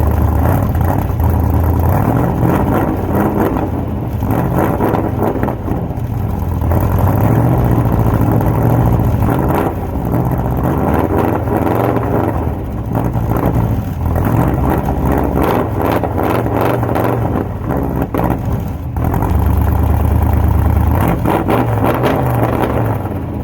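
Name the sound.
1964 Chevy C10 355 V8 engine starting and idling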